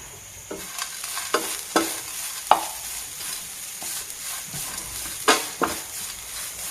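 Chickpea curry masala ingredients roasting in a pan Kerala-style, with steady sizzling and frying plus repeated sharp stirring scrapes and clinks at irregular intervals, close and moderately loud, no talk.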